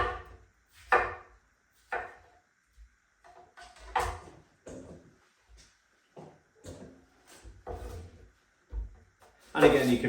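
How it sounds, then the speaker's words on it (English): A knife chopping watermelon into chunks on a board, with a series of irregular, fairly close thuds and cuts spaced through the stretch, some overlapping with talking. "just take my watermelon, plenty of it, and just chop that into some nice chunks"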